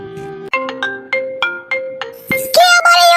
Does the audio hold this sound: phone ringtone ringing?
yes